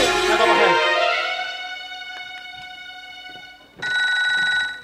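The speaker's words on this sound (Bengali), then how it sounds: "দাদার ফোন রিং হচ্ছে" A phone rings with a bright electronic tone, fading out after a couple of seconds, then another ring starts abruptly.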